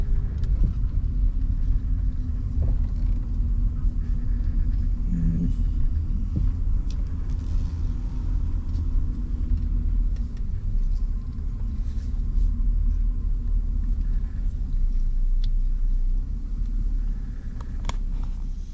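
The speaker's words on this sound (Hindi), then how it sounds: "गाड़ी यहाँ पार्क करूँगा।" Steady low engine rumble of a car being driven and parked, a continuous near drone with faint road noise and no talking.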